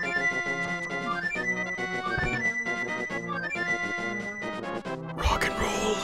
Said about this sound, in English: play the flute!